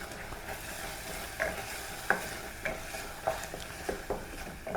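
Tomato paste masala for foul medammes cooking in a pan, a continuous close sizzle broken by periodic scraping stirs of a spoon against the pan, with no talking.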